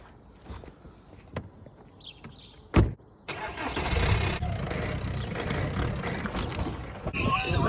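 A car engine turns over and catches with a sharp burst, then settles into a steady running drone for several seconds, heard close up after some quiet shuffling and a door-like thump.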